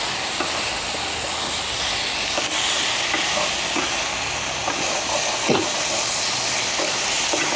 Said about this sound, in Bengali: আমার ভাজা হয়ে গেছে পেঁপেটা মশলা দিয়ে